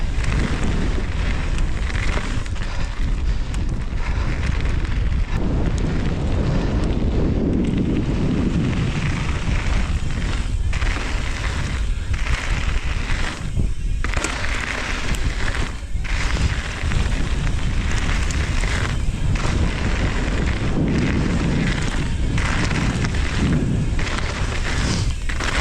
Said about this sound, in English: the wind is slowing me down tremendously